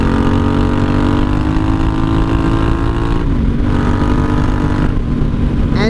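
A 1983 Honda Shadow VT750C with open straight pipes rumbles steadily at riding speed, its loud engine drone holding throughout with a slight dip in pitch partway, like a gear change, and no talk.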